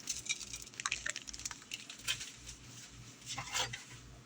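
Frozen peas and carrots, a 16-ounce bag, dumped into a crock pot: a faint scatter of small hard pieces pattering and clicking against the pot in several short bursts, quiet and close.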